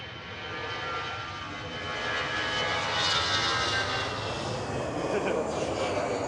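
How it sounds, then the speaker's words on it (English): Iberia Express jet airliner departing Manchester Airport, a loud, steady broadband engine roar that swells after a couple of seconds and holds strong throughout, with faint talk underneath. "We'll just let this noisy Iberia Express leave."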